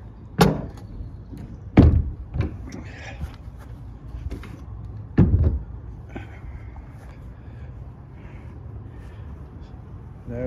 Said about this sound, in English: Nice big thick door.